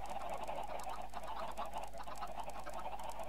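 Chickens cluck and squawk continuously nearby, a dense overlapping chorus of fowl calls over a low steady hum, with no talking.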